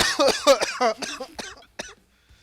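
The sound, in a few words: cough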